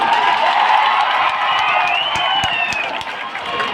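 Crowd at a political rally in Bharuch, Gujarat, clapping and cheering in a steady, dense wash of applause that holds for several seconds without letting up.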